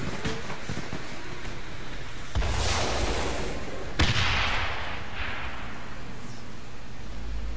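Air strike explosions in the Dying Light video game, two sharp booming blasts a couple of seconds apart, each followed by a rushing, rumbling tail over steady background ambience.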